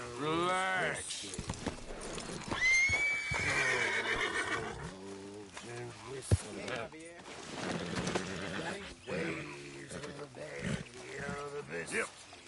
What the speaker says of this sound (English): Get the horse out of here.